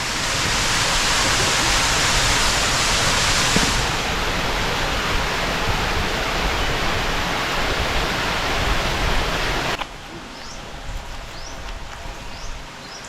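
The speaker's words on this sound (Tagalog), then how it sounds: "okay mo ni pinakadako nga falls mga igsoon oh" A large waterfall roars as a dense, loud, steady rush of falling water close by, then drops abruptly to a softer wash with faint bird chirps.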